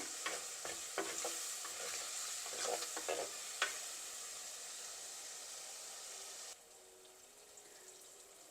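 Quiet, even sizzling of tomato and onion sautéing in a pan, with occasional stirring clicks early on before the frying settles into a softer hiss.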